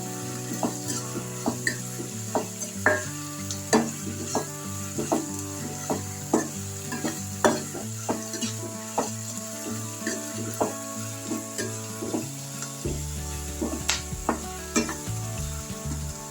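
Onions sautéing with rock salt in a pan hiss with a steady sizzle, while a utensil repeatedly scrapes and stirs them in an even rhythm, close and continuous throughout.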